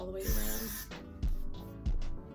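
Hairspray is sprayed close up onto a lace frontal wig during installation, giving a few short hissing bursts of the aerosol, with a voice speaking softly around them.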